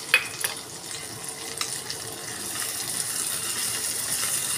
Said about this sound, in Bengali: নুন দিয়ে মিশিয়ে নিয়ে পেঁয়াজটা হালকা বাদামি করে ভেজে নেব।